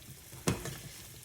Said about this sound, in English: combine everything together.